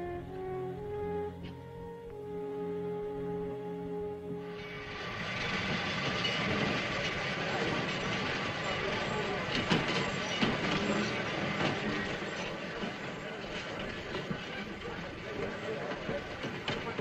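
A passenger train runs on rails in a 1940s wartime setting. A loud, steady rumble with rattling sets in after a few seconds and continues to the end, following a quieter tonal opening with faint voices.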